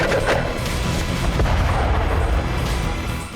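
Russian tank cannon booms during fighting around Kyiv, Ukraine, heard as a dense, continuous rumble of heavy gunfire and blasts that stays loud throughout with no voices.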